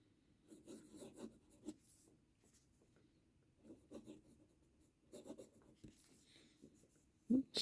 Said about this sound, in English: Now let's do a writing sample.